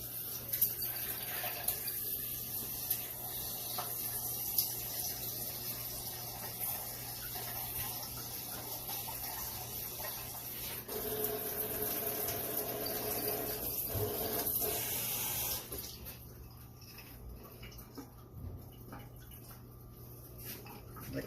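Purified water runs from a tap into a container while Jello is being made, giving a steady, moderately faint splashing flow that shifts in tone partway through and then tapers off near the end.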